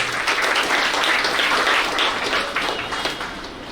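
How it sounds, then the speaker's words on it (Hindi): An audience of children and guests at a student felicitation event gives a guest doctor a full round of dense applause that holds strongly and then thins and fades toward the end. "बहुत जोरदार तालियां हो जाए इनके लिए"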